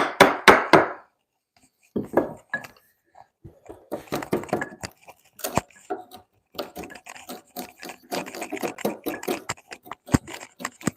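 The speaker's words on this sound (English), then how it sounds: "It's a crazy chisel. I want to get a stop cut right there." A chisel struck into timber to make a stop cut for a mortise in timber-frame joinery, heard as a run of sharp knocks and scraping taps at close range, with short pauses between bursts.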